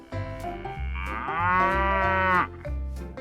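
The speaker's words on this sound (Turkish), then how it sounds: "Sıradaki hayvanımız inek." A cow moos in one long, drawn-out call that rises and holds before dropping away, loud and close, with a shorter low lowing before and after it and no talking.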